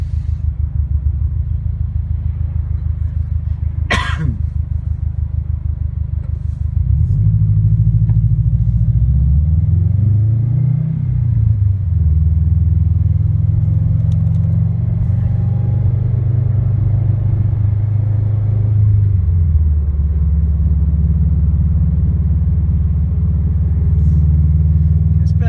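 2017 Subaru WRX STI fitted with an Invidia R400 cat-back exhaust idling in neutral in traffic, a steady, loud, close low burble that briefly dips and wavers before settling back into an even idle, with a sharp click early on.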